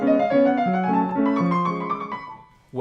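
Quick piano notes run together in a blurred, uneven passage, the individual notes hard to separate, played alone and fairly close.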